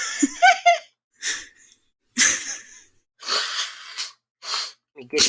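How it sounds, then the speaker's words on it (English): Bursts of sneezing and breathy laughter come in short separate fits, close and fairly loud, with a voice between them. "then you're gonna sneeze again"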